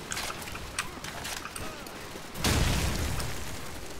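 A grenade blast in the Call of Duty 4: Modern Warfare video game bursts out as a loud, sustained low rumbling boom partway through, after scattered game gunfire and battle noise.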